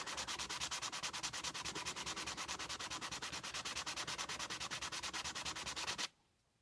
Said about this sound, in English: You just keep turning it as you're sanding it.